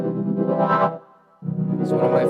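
Buzzy, distorted synth tone in a beat, its filter cutoff automated so the brightness sweeps, cutting out briefly before returning with a sharp edge.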